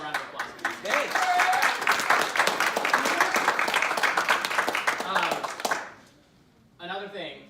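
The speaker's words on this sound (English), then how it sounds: "So again, one more round of applause for these" At a scholarship event, an audience of students and parents gives a full round of applause for the students. The clapping rises quickly, holds dense and steady, then cuts off near the end, and a short stretch of speech follows.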